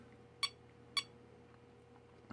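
A battery charger's button buzzer gives two short, faint electronic beeps about half a second apart over a low steady hum.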